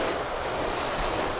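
Water from a garden hose sprays onto newspaper laid over soil in a backyard garden, making a steady, close, broad hiss that does not let up, with no talking.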